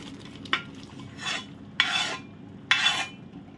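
Partly cooked mutton is stirred and mixed in a cooking pot: three distinct scraping strokes, each a short rasping swish, with quiet pauses between.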